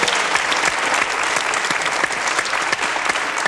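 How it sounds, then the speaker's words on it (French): Steady applause from a French television game show studio audience, dense and sustained clapping filling the room throughout with no break. "Bravo, on l'applaudit."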